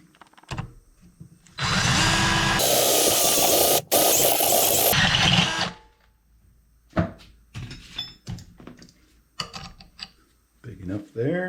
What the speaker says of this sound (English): switch to that smaller step bit